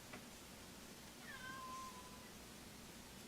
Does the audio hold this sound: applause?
no